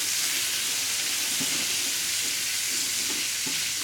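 Italian sausage and vinegar peppers cook down in a pan, giving a loud, steady, close-up sizzle and crackle with faint stirring bumps throughout and no voices.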